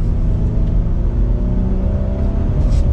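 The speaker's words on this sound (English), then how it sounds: "we're gonna pop this into sport mode and we'll give it a little bit of gas" A 2022 Ford Explorer Timberline SUV pulls away in sport mode on the road, its engine giving a loud, steady, close drone with a faint rise in pitch and no talking.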